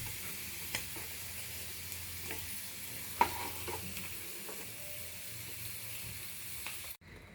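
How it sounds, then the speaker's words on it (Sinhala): Okra sizzling in hot oil in a pan, a steady fry with occasional stirring clicks, fairly quiet and close, cutting off abruptly near the end. "බණ්ඩක්ක ටික වෙලාවක් තෙලේ බැදෙන්න දෙන්න."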